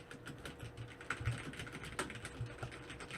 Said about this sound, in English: That is the sound of me on the keyboard just desperately trying to find what controls I